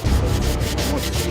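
Steady, close rasping of sandpaper rubbed back and forth over old, grime-covered reclaimed wood in a rhythmic scrubbing pattern.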